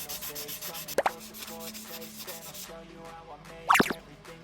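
Small plastic body part of a Tamiya 1/12 Fairlady Z 240ZG scale model being shaved down to widen a panel gap, with soft scraping strokes and two sharp louder scratches, close and fairly quiet.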